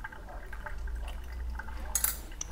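Hot water poured over ground Honduras Las Calaveras coffee in a pour-over brewer, a soft, steady trickle running close by for a few seconds, with a brief brighter splash near the end.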